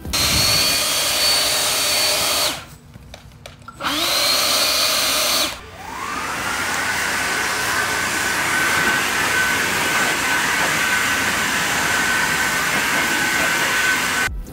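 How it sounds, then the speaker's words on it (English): Two Stihl battery backpack leaf blowers, the BRA300 and the newer BRA600, run one after the other. The first is a loud steady whoosh cut by brief pauses, then the second spins up with a whining rise and holds a constant roaring airflow. "this is what the BRA300 sounds like versus the new BRA600"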